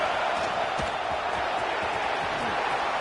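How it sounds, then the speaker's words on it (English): A packed stadium crowd at an LSU college football game keeps up a steady, dense roar of cheering and noise that fills the whole stretch without a break. "It's early, but this crowd is fired up. Listen to this noise here."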